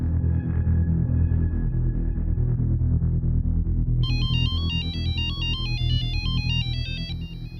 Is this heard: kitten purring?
no